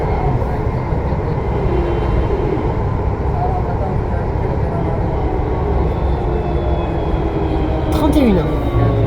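Interior ride on a VAL 208 NG2 automated metro train on Line B, a steady loud rumble and rolling roar throughout, with a brief rising whine near the end.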